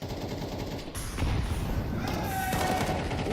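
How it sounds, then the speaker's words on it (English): Gunfire from an AK rifle in a video game, a dense, continuous spray of shots over a steady roar, loud and close. "grabs the AK, sprays down through the push from the ramp"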